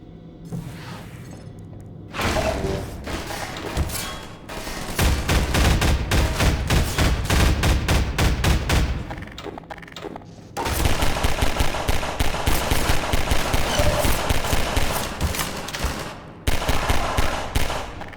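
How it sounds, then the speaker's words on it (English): Assault rifle fire in Half-Life 2 rattles in long, loud automatic bursts, rapid shots running for several seconds at a time with short pauses and quieter stretches between them, and no one speaks. "What blows my mind about the assault rifle in this game is that the first shot isn't perfectly accurate."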